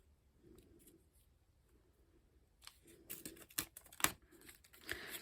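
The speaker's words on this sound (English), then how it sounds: "And then we're going to tear between the two." Paper being torn apart by hand at a craft table, starting with faint soft handling and rising into a few sharp, crisp ripping bursts up close, with no talking.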